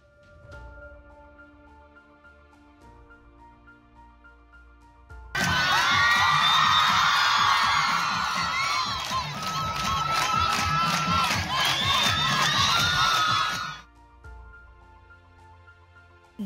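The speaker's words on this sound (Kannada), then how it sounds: "ಹುಡುಗರು ಗಣಪತಿ ಬಪ್ಪ ಮೋರ್ಯಾ ಅಂತ ಜೈಕಾರ ಹಾಕಿದ್ರು" A crowd of boys at an Onam festival celebration in Bagalakote chants Ganapati Bappa Morya, a loud, dense burst of massed shouting. It starts abruptly, holds for about eight seconds, then drops back to a quieter background murmur.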